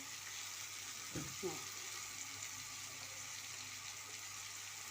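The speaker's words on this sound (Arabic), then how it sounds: "نقلي بقى السمك هنا اهو" Sardines frying in a pan give off a soft, steady sizzle at a low level, with a couple of brief knocks partway through.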